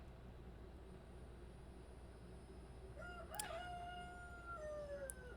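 A rooster crows once in the middle distance, a drawn-out call rising over steady low background hum and faint traffic-like noise, with no talking.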